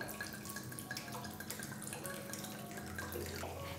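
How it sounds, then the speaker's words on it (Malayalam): Half a cup of water poured into a cauliflower masala cooking in a pan, a steady close trickling and splashing that runs continuously with no talk. "ഞാനിപ്പോൾ ഒരു 1/2 കപ്പ് അളവിലാണ് ഇതിലേക്ക് വെള്ളം ചേർത്ത് കൊടുക്കുന്നത്."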